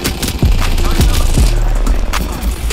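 Bursts of gunfire from an Apex Legends arena match ring out loud and close, several rapid volleys stacked over a steady game backdrop, with a voice briefly audible among the shots.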